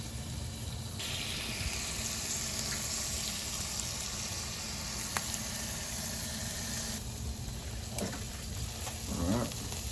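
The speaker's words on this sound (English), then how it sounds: "We're just going to grill these for 5 minutes on each side" Swordfish steaks grilling give off a steady, dense sizzle that runs unbroken the whole time, close and moderately loud, with a few faint knocks and scrapes near the end.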